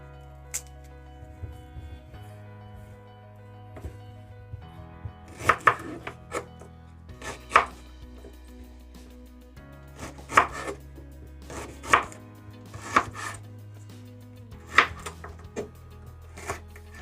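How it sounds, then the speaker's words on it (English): A knife chops ginger on a cutting board in short bursts of sharp, close taps, separated by pauses, over a quiet background with faint music. "you definitely want to go ahead and chop them into small pieces"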